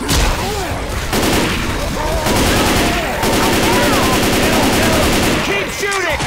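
Dense rapid gunfire from a Left 4 Dead 2 battle in The Parish, loud and sustained across the whole stretch, with bursts overlapping and game character voices calling out over the shooting.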